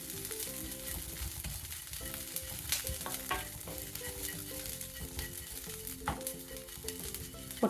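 Curry leaves fry and crackle in hot oil for a pickle while being stirred, making a dense sizzle with scraping stir strokes under tonal background music.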